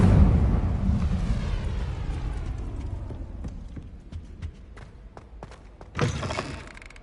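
Incendio fire spell cast in the Hogwarts Legacy video game during dueling club, a loud whooshing burst that fades into a rumbling crackle, with sharp impact thuds scattered through and a renewed flare near the end.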